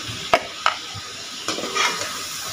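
Chicken pieces for chicken dum biryani frying in a pan, giving a steady close sizzle broken by a few sharp utensil clacks and scrapes.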